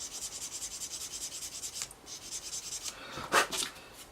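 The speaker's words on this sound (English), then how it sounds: "we'll just use a normal sanding stick just to get it out." Steady dry rubbing and rasping of a sanding stick on a plastic Tamiya 1/32 F-16C/J model engine part, close up, with a rhythmic back-and-forth texture and a brief sharper scrape near the end.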